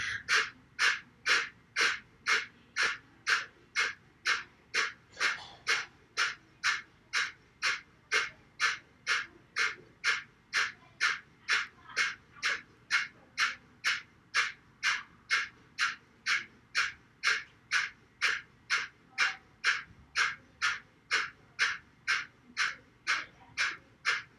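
Breath of Fire in yoga: rapid, even, forceful breaths pumped through the nose. Sharp puffs come at about two per second and keep up a steady rhythm for the whole stretch, close and clear, with no talking.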